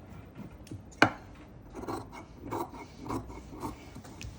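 Scissors snip through fabric along a neckline, with a sharp click at the start followed by several crisp, evenly spaced cuts, close up and without talk.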